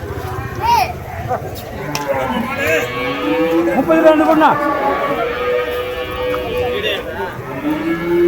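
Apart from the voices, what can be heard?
native breed cow mooing at cattle market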